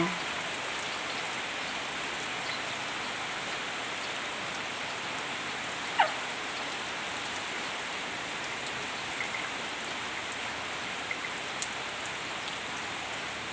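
Rain falls steadily as an even hiss of drops on surfaces, continuous and moderately loud throughout, with a single brief sharper sound partway through.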